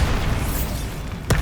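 Bombarda's explosion in Hogwarts Legacy rumbles low and continuous, then a sharp, loud crack bursts through near the end, all without voices.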